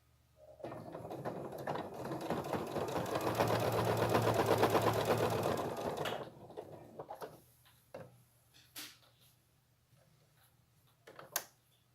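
A sewing machine stitches slowly through layers of fabric, batting and felt for a Christmas project, a close, steady mechanical chatter lasting several seconds, then stopping, followed by scattered handling knocks and clicks.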